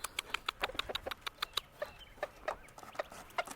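Chickens and a rooster emerge from a coop, giving a rapid series of sharp, close clucks and squawks in an uneven rhythm, with some wing flapping.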